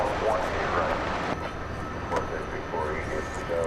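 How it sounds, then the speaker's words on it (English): An Airbus A300 at DFW airport spools up its jet engines, a steady loud roar with a rising whine, under someone talking. "Let me get that shot back of this A300, which is spooling up"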